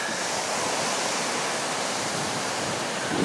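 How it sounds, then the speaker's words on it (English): Four to five foot ocean swell breaking on the beach at Long Beach Island in the evening, a steady, loud, continuous wash of surf roar with no pauses, heard alone without voices. "four to five foot swell now. And probably can both see and hear the grind."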